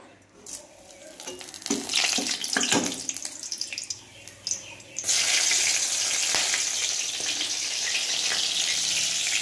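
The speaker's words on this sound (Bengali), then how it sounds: "আমি প্রথমে কড়াইয়ে তেল দিয়ে দিয়েছি। তো এখন আমি ফোড়নগুলো দিয়ে দেবো।" Whole spices dropped into hot oil in a wok, first scattered clatter and bursts, then a sudden loud, steady sizzle that carries on close up to the end.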